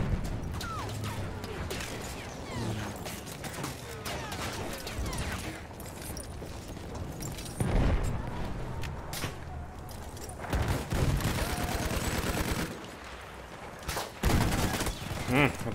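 Battlefield 1 combat with rapid bursts of gunfire and scattered single shots, loud and continuous, with a voice talking briefly over the shooting.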